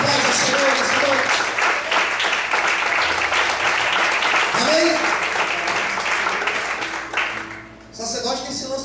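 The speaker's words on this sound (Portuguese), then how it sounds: "Você pode aplaudir e paz ao Senhor nessa noite." Church congregation applauding during an evening service, a loud sustained wash of many hands clapping that fades toward the end, with a voice speaking over it.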